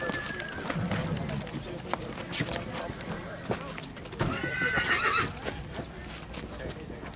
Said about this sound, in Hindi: देख रहे हो दोस्तों, बहुत ही अच्छा जो घोड़ा है